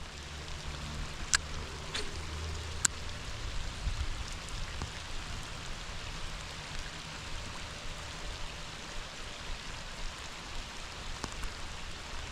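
Rain falls steadily on the water during a bluegill fishing outing, a soft, even hiss with a few faint knocks and no talking.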